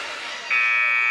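A basketball game buzzer ends the first quarter of a high school boys game. A loud, steady electronic tone cuts in suddenly and holds over crowd noise and voices.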